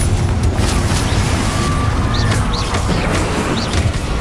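Confringo fire spell explosions in Hogwarts Legacy, heard as a continuous loud rumbling blast texture with bursts of booming impact and faint chirping effects scattered on top.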